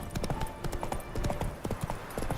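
Roach, a horse in The Witcher 3 video game, gallops with rapid rhythmic hoofbeats close by, steady and loud, over faint game ambience.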